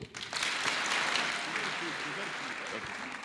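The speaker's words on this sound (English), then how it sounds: "Let's clap for him" An audience at a Pan African event claps in a sustained, even burst that starts abruptly and holds steady, with faint voices mixed in.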